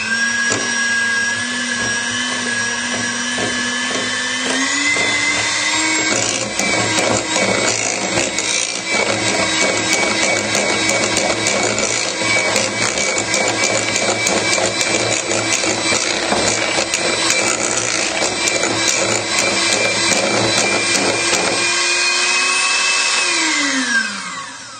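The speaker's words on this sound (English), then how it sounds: "So bring in the electric whisk, and just starting slowly, give it a whisk." An electric whisk beats cupcake icing mixture, a loud steady motor whine running continuously for about twenty-five seconds, its pitch shifting up partway through as it speeds up and dropping away at the end as it winds down.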